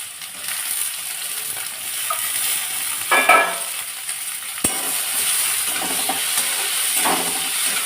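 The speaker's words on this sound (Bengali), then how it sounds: "তেলটা আমার গরম হয়ে গেছে। এবার মিষ্টি কুমড়োগুলো ওর মধ্যে দিয়ে দেবো।" Pumpkin pieces and dried chilli sizzle in hot oil in a pan, a continuous frying hiss with bursts of crackle as pieces hit the oil and occasional stirring clatter, close and steady.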